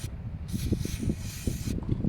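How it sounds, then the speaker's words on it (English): Aerosol mass airflow sensor cleaner sprayed on the sensor of a Ford Focus 1.8 TDCi during a service, a steady close hiss in two bursts, the second longer, over low rumbling background handling noise. "I'm using some mass airflow sensor cleaner."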